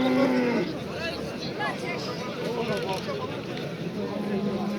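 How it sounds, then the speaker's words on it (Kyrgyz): A cow with her calf moos at a busy livestock market. One low, drawn-out moo opens the clip, and a fainter moo follows later, set against a steady crowd hubbub and nearby talking. "Мына торпогу менен уй."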